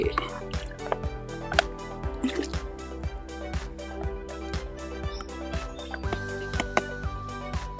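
Fermented nutrient liquid trickles and drips into water for growing watermeal, with a close, continuous liquid patter under talk and steady tonal background sound.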